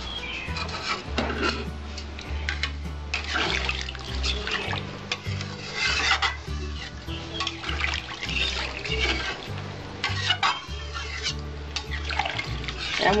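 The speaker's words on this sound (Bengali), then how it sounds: "আমি এবার 1 লিটার মতো জল দেবো।" Roughly a litre of water poured into a pan of Bengali-style boal fish curry, a continuous splashing, gurgling pour with bubbling and a low rumble, close and steady throughout.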